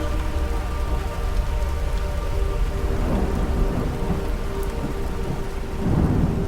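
A heavy rainstorm hisses steadily while low thunder rolls underneath it. The thunder swells a couple of times toward the end, and no one speaks.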